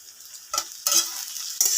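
A spatula works taro stolons and turmeric around a pan in three short scraping strokes with brief sizzling bursts, close and fairly loud with quiet gaps in between.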